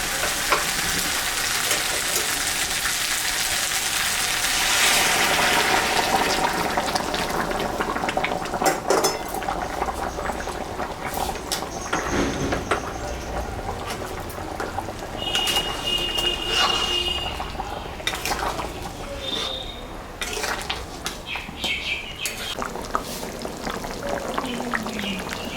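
Hot boiled water is poured into a pot of mutton kosha, setting off a loud, steady sizzle and bubbling that lasts throughout, with occasional clinks of a utensil against the pot.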